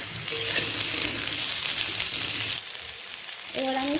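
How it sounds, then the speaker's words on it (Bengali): Kohlrabi and potato pieces go into hot oil already used for frying fish, with bay leaf, dried chillies and five-spice. They sizzle loudly and steadily, with a few metallic clinks near the end. "এবার আমি দিয়ে দেবো ওলকপি আর আলুগুলো।"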